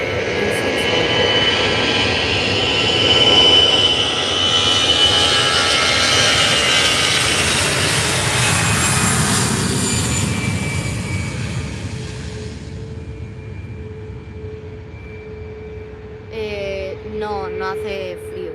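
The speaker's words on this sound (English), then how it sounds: "Here goes the easyJet A320 off to easyJet A320 off to Basel in Switzerland." An easyJet Airbus A320 departs Faro for Basel in a loud, rising jet roar with a thin whine on top, then fades away into quiet; talk starts near the end.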